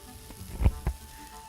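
Food sizzles in a hot frying pan during home cooking, with two short bursts of crackling as pieces hit the oil, then a low steady hiss.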